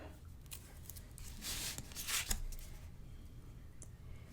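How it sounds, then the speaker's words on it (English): Tape being pulled and pressed onto paper for a fall mini album, soft close rasping and crinkling bursts with a light tap, quiet and without talk. "And I am going to tape."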